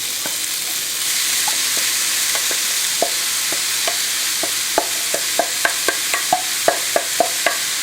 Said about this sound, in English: Just want to saute very quickly